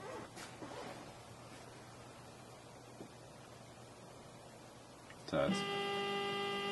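A CT3 food texture analyzer boots up, letting out a sudden electronic tone with a steady mechanical whir late on, after a stretch of quiet room hum and brief speech.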